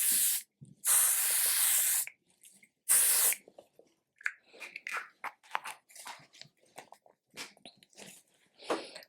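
L'Oreal setting spray mists onto a face in two bursts, each a close hissing spritz lasting about a second, followed by soft handling noises and faint clicks.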